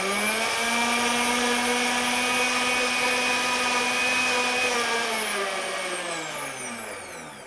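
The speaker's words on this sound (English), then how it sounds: "This is the coolest blender on the face of the earth." A blender whirs at a steady high pitch while blending a pumpkin flan mixture, loud and close, then its motor note drops and winds down near the end.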